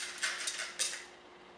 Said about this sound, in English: So we're just going to add our second box of Nerds.